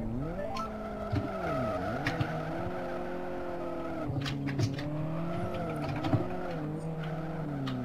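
A Nissan Silvia S14 in the racing game Live For Speed revs hard while its tires squeal through long sliding turns, the engine pitch rising and falling continuously.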